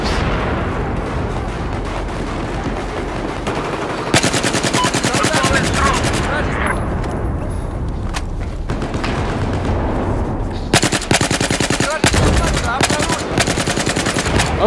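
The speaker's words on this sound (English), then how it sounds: "I dumped a bunch of bullets into that guy" Battlefield 4 Night Ops firefight with loud, close bursts of automatic gunfire, long sustained volleys and short gaps, plus distant booms in the background.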